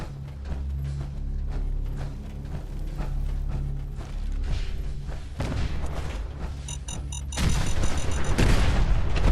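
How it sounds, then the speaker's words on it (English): Chain of explosions in Fallout 4's Nuka-World, deep rumbling booms layered over a droning game soundtrack, swelling into a denser, louder burst of blasts and debris near the end. "Chain reaction, everything is exploding now."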